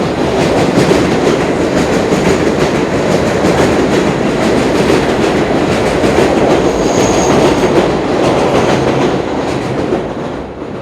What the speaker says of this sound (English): there's nothing I could do about the subway noise